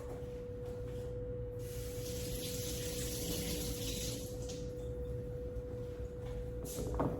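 Running tap water pours steadily into a kitchen sink while carrots are rinsed, a continuous close hiss and splash with a faint steady tone beneath and no talking.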